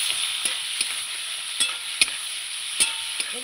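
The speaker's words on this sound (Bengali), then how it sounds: "একসঙ্গে সব কষাবো, তাহলে কিন্তু কচু তরকারিটা খেতে ভালো লাগবে" Hilsa fish head and taro curry frying in a pan, a soft ongoing sizzle broken by sharp scraping clicks of a spatula stirring at irregular intervals, close by and with no talking.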